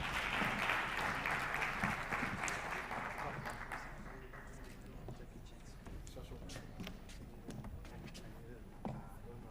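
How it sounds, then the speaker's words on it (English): Applause for panelists at a conference on the future of work, a fairly faint round of clapping that fades within a few seconds into sparse scattered claps and room murmur. "Please give them another round of applause."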